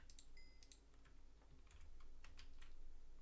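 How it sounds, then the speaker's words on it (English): Someone types on a computer keyboard during a Minecraft UHC gaming session. The keystrokes are faint, quick and uneven, with scattered light clicks over a low hum and no talking. "That's his keyboard."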